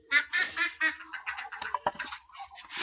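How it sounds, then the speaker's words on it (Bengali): Pankiraj ducks quack in a noisy, overlapping burst as they are let out of their pen on a Bangladeshi farm, close and fairly loud. "এবার পঙ্কিরাজ হাঁসগুলো ছেড়ে দিই।"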